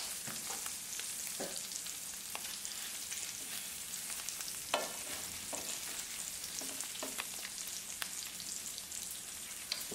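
Bacon sizzles steadily in a pan with bright, dense crackle and scattered louder pops, continuous and close for the whole stretch, no voices.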